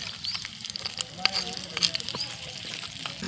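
Onions and tomatoes fry in a pan for chicken gravy, a soft steady sizzle with scattered crackles and pops heard close up, while a person talks over the cooking.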